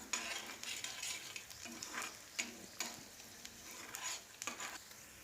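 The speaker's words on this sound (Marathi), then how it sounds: "हे सर्व जिन्नस व्यवस्थित परतवून घ्यायचे आहे।" Onion and green chillies sauté in a pan with a low sizzle, while a spoon makes rhythmic scraping strokes every half second or so, close and moderately quiet.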